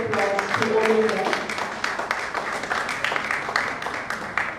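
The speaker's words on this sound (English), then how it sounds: "Can we extend a huge round of applause to all of them?" An audience applauds students at a school media program launch, a brief wash of clapping with a voice speaking over the opening moments.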